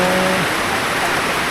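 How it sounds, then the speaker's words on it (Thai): Steady rain falls outdoors in a rural village, a dense, even hiss of drops with no breaks, loud and close throughout. "ฝนตกแห้งเลยนะ"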